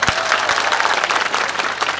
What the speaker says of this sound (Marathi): एकदा आशिषजींसाठी सगळे टाळ्या वाजवूया